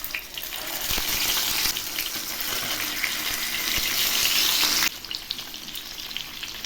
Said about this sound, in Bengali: তেল গরম হয়ে গেছে, এখন আমি একে একে মাছগুলো ছেড়ে দিচ্ছি।